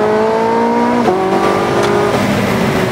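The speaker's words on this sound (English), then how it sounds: "the V8 screams and it sounds so much better than the P1" A Porsche 918 Spyder's V8 engine screams at high revs on a race circuit, loud and close, with quick gear shifts briefly dropping the pitch before it climbs again.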